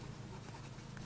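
Steady close scratching of a Pelikan M1000 fountain pen nib writing on Rhodia dot paper, a continuous soft friction with faint squeaky edges, heard alone.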